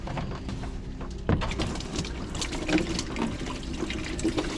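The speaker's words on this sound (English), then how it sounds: "this is where you get covered in water, George." Coolant water rushes and splashes continuously out of a 2.0 TSI engine being removed from an Amarok single cab, a close, steady gush with a sudden surge partway through, over a low background rumble.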